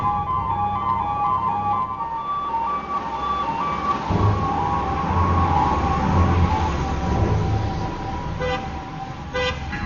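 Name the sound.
fire engine siren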